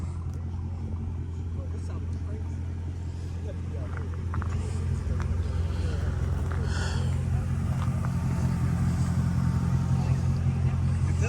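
Mercedes SL500 engine droning steadily while driving with the top down from Louisville, Kentucky to Ohio, a loud low rumble that grows slightly louder midway, with a voice talking over it.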